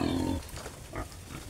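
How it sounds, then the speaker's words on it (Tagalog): Piglets being herded into a small trap pen, a loud squeal at the start followed by softer grunts and snuffling shuffles up close. "Papasukin na natin sa ating ginawang trap ang mga biik"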